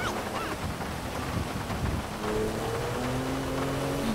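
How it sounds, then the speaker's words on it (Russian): Steady rain hisses continuously in the video game GTA V, broad and dense throughout, with low rumbling and a faint tonal hum joining in the second half. "Дождик прикольно звучит."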